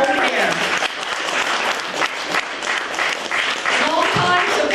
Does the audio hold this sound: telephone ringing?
no